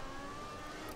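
An F1 car engine in the F1 2014 racing game during Hungarian Grand Prix qualifying, its throttle blipped under braking: a continuous, close mechanical drone with a steady whine and slight rises in pitch, heard alone without talk.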